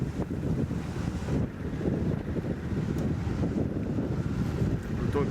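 Wind buffets the microphone in a steady, loud, low rumble with gusty swells during the first stage of the GP du Conseil Départemental cycling race. No voices are present.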